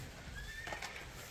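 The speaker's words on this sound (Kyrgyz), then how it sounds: "сатууга мына ушул чоң тай бар." A one-year-old colt born in Kyrgyzstan lets out a short, clear neigh, close and fairly quiet, with a faint hoof clop beneath it.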